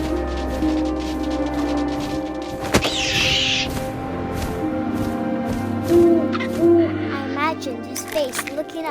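An owl hooting in the video game What Remains of Edith Finch, a few soft low hoots rising over wind and ambient game music, with brief scuffing and rustling sounds between them.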